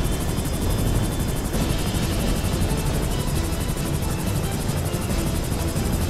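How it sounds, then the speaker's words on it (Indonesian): An aircraft passes overhead in the video game GTA 5, a loud, continuous droning roar with rhythmic rotor-like chopping that holds steady throughout, with no talking. "ada pesawat itu sih"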